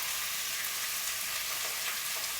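Lemon herb chicken breast frying in a pan on a stovetop at medium heat, giving a steady, loud, close sizzle with crackling throughout and no voices.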